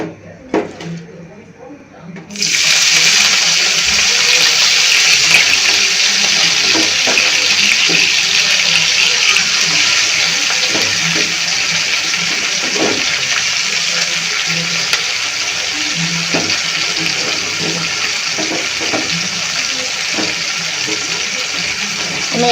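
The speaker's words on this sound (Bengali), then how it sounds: "আমার তেল গরম হয়ে গেছে, আমি এবার দিয়ে দিচ্ছি কেটে রাখা দুটো পেঁয়াজ এবং পেঁয়াজের কলি" Chopped onions and spring onions drop into hot oil for a pumpkin curry, setting off a steady loud sizzle that starts abruptly after a quiet moment and hisses on unbroken.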